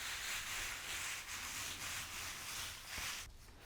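Bare hands rubbing and pushing seasoning into meat, a soft, close, papery scrubbing with gentle rhythmic strokes and a brief pause near the end, with no talking.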